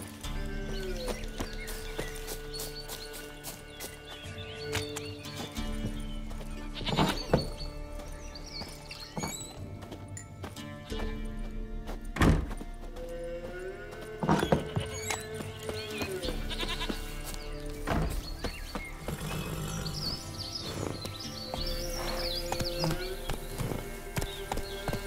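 Roach the horse galloping in The Witcher 3 video game, steady hoofbeats with sharp louder impacts every few seconds, heard under a bed of game music and ambient sound.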